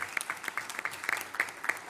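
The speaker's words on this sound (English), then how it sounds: "You can give her a clap, absolutely." A meeting audience applauds a student who spent most of her freshman year in the hospital, at a Board of Education session; moderately faint, fairly sparse clapping from a modest crowd, steady for the whole stretch.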